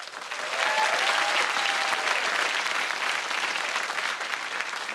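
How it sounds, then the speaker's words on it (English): Dense, sustained clapping from a large audience, loud and even for several seconds, filling the room without any distinct voices above it. "Give a round of applause to yourself."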